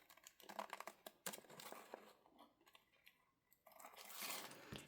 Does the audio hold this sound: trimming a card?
yes